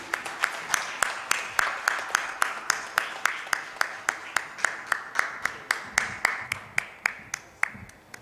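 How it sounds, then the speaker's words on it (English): Conference audience at a national sustainability conference in a hotel hall claps in a steady, evenly spaced rhythm, sharp distinct claps repeating for several seconds like a slow unified beat. "Big round of applause, ladies and gentlemen."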